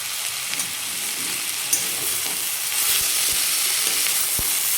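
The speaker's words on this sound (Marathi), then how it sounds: "फक्त दोन मिनिट परतून घेतली की आपली डाळ शिजते" Soaked lentils stir-fried in a home kitchen pan give a steady, fairly loud frying hiss, with a few soft knocks of a spoon against the pan near the end and no talk.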